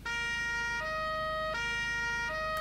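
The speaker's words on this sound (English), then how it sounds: "And we've got sirens." A wailing emergency-vehicle siren from the Cherrier FCV in BeamNG.drive video game, sweeping up and down in steady cycles, loud and continuous with no talk.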